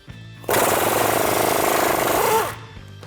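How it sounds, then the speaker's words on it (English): An impact tool with a 21mm swivel socket loosens a bolt behind a pushed-back fender liner while fitting ReadyLIFT SST upper control arms on a 2019-2025 RAM 1500, one loud rapid hammering burst of about two seconds, close up. "I'm gonna push this fender liner back and then loosen up this bolt."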